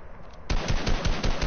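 An auto sniper rifle in a video game fires a rapid, evenly spaced string of loud cracking shots after a brief quiet lead-in.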